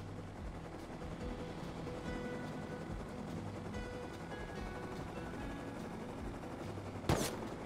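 Automated turrets in the game Rust fire on a flying minicopter, a steady rattle of rapid gunfire under continuous engine and rotor drone, with one sharper burst near the end.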